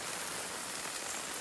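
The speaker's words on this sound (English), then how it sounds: "Here comes the rain." Steady rain drumming on a wind-out canopy over an outdoor camp cooking setup with a Cadac Safari Chef 2 gas stove, a continuous dense hiss with no pauses and no voices.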